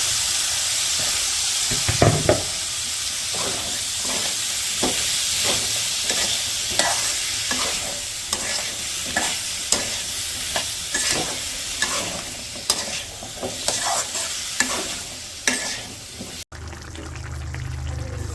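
Chopped bottle gourd stirred into a fried spice masala with green chilies in a village kitchen pan, sizzling steadily with repeated scraping stir strokes throughout, close and fairly loud, no talk.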